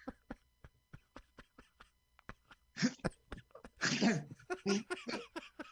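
A performer in a wig sneezes loudly and close, with two or three explosive bursts in quick succession after a run of sharp, faint clicks and breaths.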